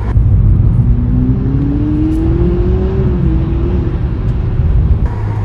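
A Ferrari SF90 Stradale hybrid supercar of 1000 horsepower drives on an open road, its engine a loud, steady drone with a slowly rising pitch under light throttle and constant road and wind roar throughout.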